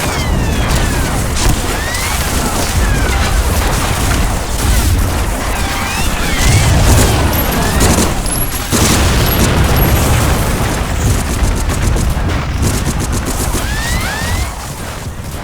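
Gunfire and explosions from bunkers in the video game Medal of Honor: Frontline: dense, loud, continuous battle noise with repeated booms and bursts of shots throughout, no voices in the foreground.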